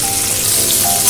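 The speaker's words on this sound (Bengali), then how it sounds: "ভালো করে আমি ভেজে নেব।" Potatoes and beans fry in a pan, giving a loud, steady, crackling sizzle that fills the moment without pause and with no voices.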